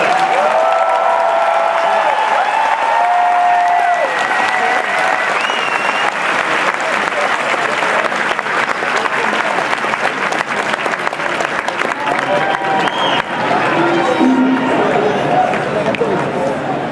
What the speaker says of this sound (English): give R2 and BB-8 and Oliver and Lee a round of applause